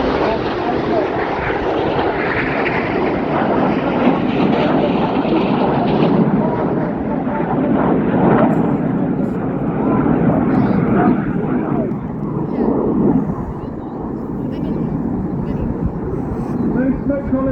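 Red Arrows jet aircraft performing a flat and rolling corkscrew display at the Cosford airshow, a continuous loud roaring jet rumble that swells and shifts as they pass, with commentary spoken over it.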